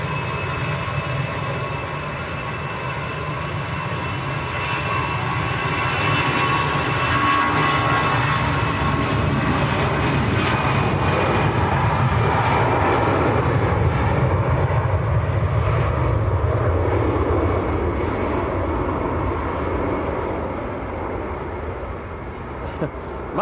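An EasyJet airliner departing for Belfast, its broad engine roar swelling to a peak mid-way and then easing off, heard from a distance with faint talk in the background.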